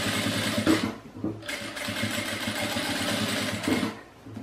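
A sewing machine topstitches a dish towel at stitch length 3, its motor whirring steadily and close with a few brief pauses between runs.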